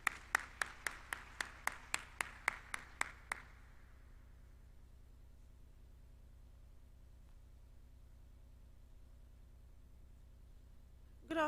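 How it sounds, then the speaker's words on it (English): Workshop attendees clap in sharp, evenly spaced unison, about ten crisp beats close by, then the room falls into near silence with faint background hum. "So let's appreciate her. Let's clap."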